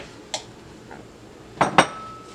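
A spoon stirs sugar into a vegan, gluten-free fruit cobbler mixture in a bowl, giving a few sharp clinks against the bowl in a quiet room, mostly in a quick pair near the end.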